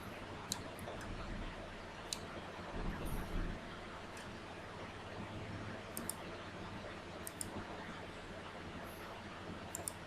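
Computer mouse right-clicks during a CAD screen recording, several faint sharp clicks scattered over a low background hum.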